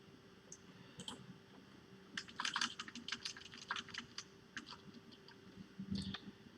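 Keys on a computer keyboard are tapped in quick, irregular bursts of close, crisp clicks, fairly quiet, with short pauses between runs and no talking.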